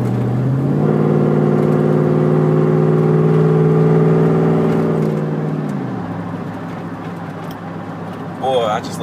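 A Chevrolet Silverado truck with a 4.8 engine accelerates hard from about 65 toward 125 mph, a loud sustained rising engine drone that holds steady, then drops off as the revs fall, heard from inside the cab.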